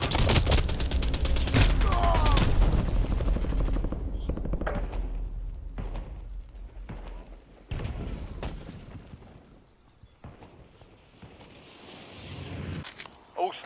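Bursts of gunfire and explosive booms from a Warzone battle royale match, loud and dense at the start, then thinning out into scattered shots and impacts over a low rumbling background, with voices speaking at points.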